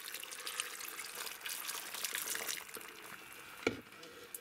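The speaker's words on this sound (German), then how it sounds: "zu unserem Zucker- und Apfelgemisch hier kommt jetzt erstmal etwas Wasser zu" Water is poured into a cooking pot holding a sugar and apple mixture, a close, continuous splashing trickle that ends with a small clunk.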